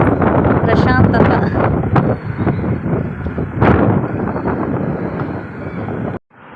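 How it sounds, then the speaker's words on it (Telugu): Cool outdoor wind buffets the microphone in loud, rumbling gusts for about six seconds before cutting off abruptly. "చల్లగా గాలి వస్తుంటే మనసుకి అది తెలియని సంతోషం"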